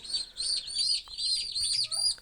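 Young chicks peep continuously, a string of high, rapid chirps in quick succession, close and fairly quiet, with no talking.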